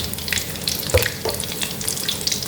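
Battered phak khan chong vegetable deep-frying in hot oil, a loud, continuous crackling sizzle with scattered bubbling bursts, close up and with no voices.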